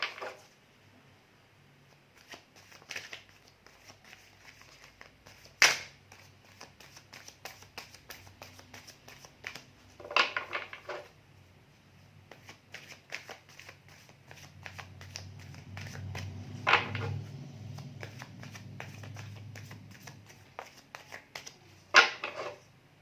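Tarot cards being shuffled for a reading, soft rapid riffles and flutters coming in bursts with a few sharper slaps, close and fairly quiet, no talking.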